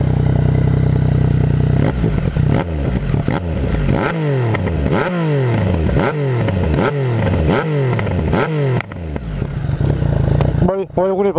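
A motorcycle engine revs repeatedly in close, loud bursts, rising and falling in a steady cycle of throttle blips before settling back to idle.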